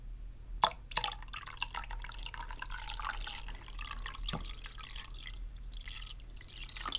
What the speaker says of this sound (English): So I'm going to go ahead and pour the cold water in now.